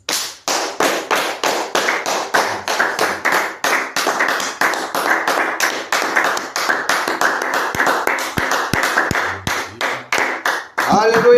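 A church congregation claps in steady, sharp rhythmic beats through most of the clip, loud and close, with voices joining in the acclamation underneath.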